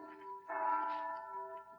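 The church bell of St. Boniface rings faintly in the distance, a soft sustained tolling with lingering hum in a quiet room, no voices.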